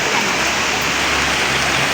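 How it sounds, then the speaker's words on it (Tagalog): Heavy rain pours down steadily, a thick close hiss of drops hitting surfaces, loud and constant throughout with no voices standing out. "Malakas ang ulan."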